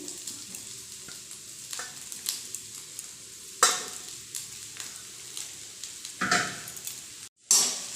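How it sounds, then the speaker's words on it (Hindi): Boiled potatoes are pressed and mixed with a spoon in a pan of spiced filling over a low gas flame, giving repeated scraping and squishing strokes with occasional sharper clinks of the spoon against the metal. "इस तरीके से चम्मच की सहायता से इसे दबाते हुए मिक्स करना है ताकि आलू अच्छी तरीके से मैश हो जाए।"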